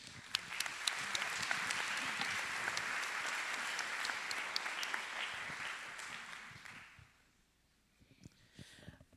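Audience applause at an academic communication congress in Costa Rica, a dense steady clapping from a large hall that fades out after about seven seconds into near silence.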